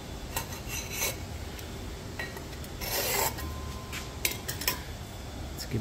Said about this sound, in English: give ourselves a scribe line